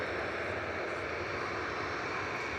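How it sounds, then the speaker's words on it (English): An Airbus A380 flies right overhead at Manchester Airport while an Aer Lingus aircraft from Dublin lands nearby, producing a loud, dense, continuous jet roar with no voices. "So Aer Lingus landed in the background from Dublin. A380 right above us."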